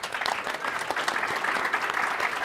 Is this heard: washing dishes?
no